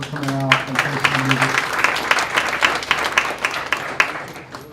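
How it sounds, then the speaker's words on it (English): Applause from a community forum audience on pollution from Monterrey Iron & Metal, clapping breaking out under a speaker's voice and continuing as a dense crowd clatter. "Let's give them a round of applause for coming out and facing the"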